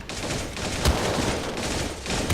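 Dense, continuous gunfire in a competitive match of a building shooter game, with pump shotgun blasts and rapid shots layered into a loud, sustained barrage and a sharper burst partway through.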